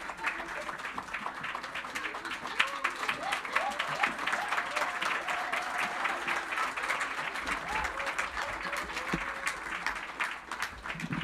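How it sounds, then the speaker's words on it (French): A church congregation gives a round of applause for a children's choir at a Christmas service, with dense, steady clapping from a large crowd sustained throughout and a few scattered voices mixed in. "Une bonne main d'applaudissement encore pour les enfants."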